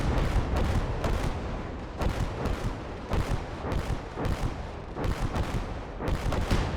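Rocket artillery fire in the World War II game Gates of Hell, a dense run of booming launches and blasts. They come in rapid clustered volleys at steady intervals, loud and continuous with no break between them.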